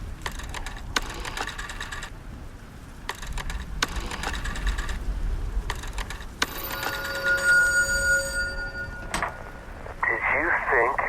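In the Black Phone 2 quest video game, a telephone rings after dialing in repeated bursts separated by short pauses, then gives way to warbling electronic tones.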